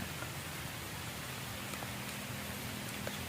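Rain falls at an island campsite as a steady, soft patter and hiss with scattered drops, fairly faint and without talk.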